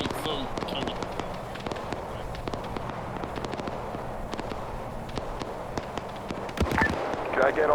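Rapid, sharp gunshot cracks in a WW2 German versus Soviet multiplayer game, scattered irregular bursts at varying distances with a heavier cluster near the end, under voice chat.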